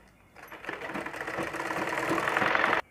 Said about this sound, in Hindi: इस तरह से किनारे से किनारे बढ़ाकर हम इसकी सिलाई करेंगे